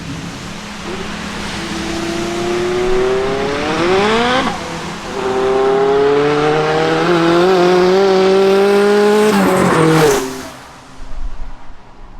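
A Renault Kangoo van fitted with a Clio 172 engine tuned to 343 bhp revs hard through rising gear pulls, its note climbing, dropping at a shift, then climbing again loud and close before it cuts off abruptly.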